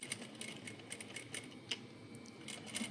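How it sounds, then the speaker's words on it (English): A home sewing machine stitches a corner-to-corner seam on a zipper pouch, giving a quiet run of rapid clicking needle strokes with a faint mechanical hum, fairly close and without talk. "I'm gonna go over to the sewing machine and sew this section right here"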